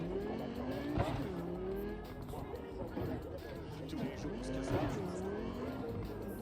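A car in Cyberpunk 2077's Night City passes with a rising and falling engine drone and some tire noise, heard under someone talking over the game.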